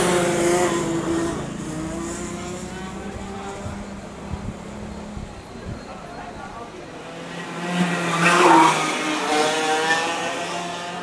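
Go-karts racing at Phuket Kart Speedway in Phuket, Thailand, their engines droning steadily at a distance and swelling into a louder rev near the end, while people talk over the noise.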